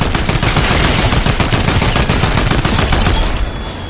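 A drum gun firing in Fortnite, a loud, rapid, sustained automatic burst of shots that rattles on without pause for several seconds before easing off at the end.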